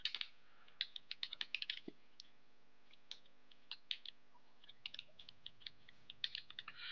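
Computer keyboard keys clack in quick irregular bursts while an email address is entered, close and quiet with short pauses between groups of keystrokes and no voices.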